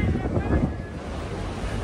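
Sea waves at Barceloneta beach in Barcelona wash in as a steady, low surf roar mixed with wind buffeting the microphone, loud and continuous throughout.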